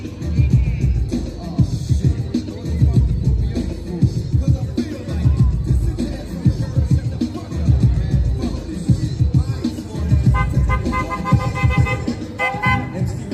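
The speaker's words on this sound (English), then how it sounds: "Is that you honking?" A car horn honks in short bursts near the end of a busy outdoor street scene, set against crowd babble and traffic noise, with people talking throughout.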